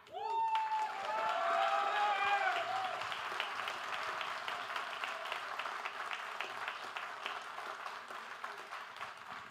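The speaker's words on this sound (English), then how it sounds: "Actually, let's clap." Audience at a live security meetup clapping after a talk, starting with cheers and a brief shout, then settling into a thinning patter of individual claps that fades toward the end.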